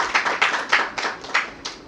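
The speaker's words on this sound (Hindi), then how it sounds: "एक बार जोरदार तालियां उनके लिए आप बजा दें" A small audience at a birthday tribute event claps in a short burst of about seven distinct, sparse claps, fairly close and fading by the end.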